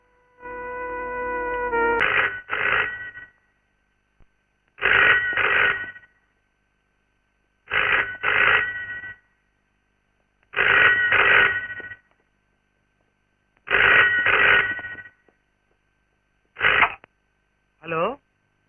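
A telephone rings back on an outgoing call in a Telugu film scene. Loud double rings repeat at regular intervals, about every three seconds, with silence between them.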